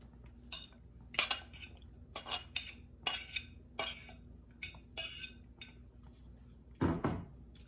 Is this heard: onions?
yes